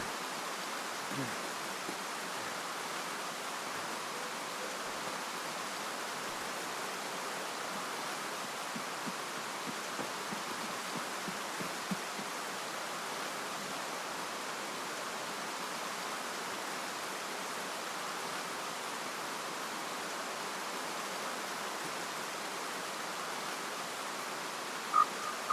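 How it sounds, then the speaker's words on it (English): Rain falls steadily in Escape from Tarkov, a continuous, even wash of hiss with no breaks, moderately loud, and a couple of faint knocks near the end. "It is really raining."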